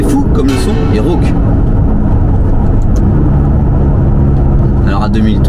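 A Ferrari 488 GTB, fitted with new springs and spacers, gives off a loud, raspy engine drone heard from inside the cabin while someone talks over it.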